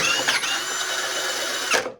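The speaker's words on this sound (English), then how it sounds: "that's our new ice fishing drill" A brushless cordless ice fishing drill runs steadily for about two seconds at close range, a constant whirring motor tone that spins down abruptly near the end.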